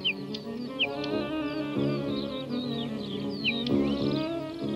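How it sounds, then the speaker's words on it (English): Sharp, high bird shrieks and chirps ring out several times over a dense, steady background of other calls and hum. "The father bird shrieks a warning."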